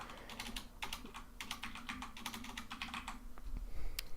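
Fingers type quietly on a computer keyboard in quick, irregular bursts of clicks with a low steady hum beneath and no talking.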